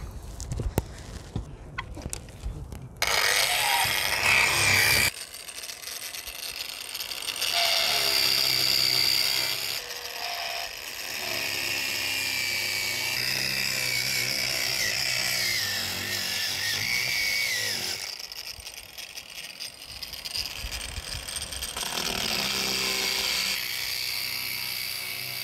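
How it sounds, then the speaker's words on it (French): Loud, continuous power-tool whine of a saw cutting through a resin-laminated boat deck, steady for long stretches with a few pauses and changes in pitch, close by with no talk. "Allez, allons voir le découpage sur le pont."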